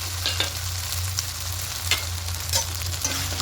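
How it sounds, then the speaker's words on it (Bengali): Ground coriander, turmeric, Kashmiri chili and cumin sauté in a pan for a vegetarian chana masala, giving a steady close sizzle broken by a few scraping stir strokes, with a low hum underneath. "খুব ভালো করে কষিয়ে নেবো"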